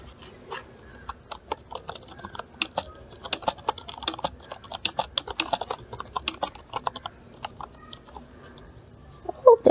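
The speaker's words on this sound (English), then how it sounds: "Let's try typing something." Typing on a cheap, rugged QWERTY pad keyboard from a keyboard-and-mouse combo, a quick irregular patter of light plastic key clicks, close up and alone.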